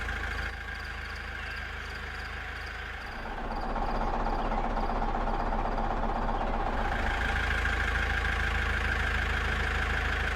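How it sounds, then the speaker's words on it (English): Tractor engines hauling freshly harvested carrots from the field to a factory, idling with a steady low mechanical rumble that swells louder partway through and holds, with no talk. "These tractors transport the freshly harvested carrots from the field to the factory for further processing."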